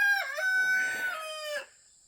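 Rooster crowing close by in a chicken pen, one loud drawn-out cock-a-doodle-doo lasting about a second and a half before it cuts off.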